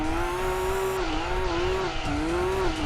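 Tyre squeal from a Zexel Skyline drifting under handbrake in Gran Turismo 2, heard as a loud sustained whining screech with a wavering pitch over steady engine roar, lasting throughout.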